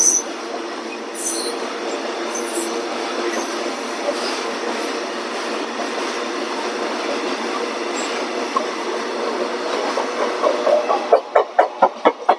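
A Sealdah–Jalpaiguri Road Humsafar train on its inaugural run near Jalpaiguri Road rolls with a steady, loud broadband rumble, then a run of rhythmic wheel clacks over rail joints near the end.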